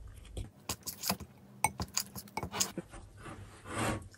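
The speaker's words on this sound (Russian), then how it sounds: "Замешиваю тесто." Dough of flour, salt, eggs, lemon juice and cold water is kneaded by hand, giving a run of close, irregular rubbing and slapping bursts with soft scraping, no talk.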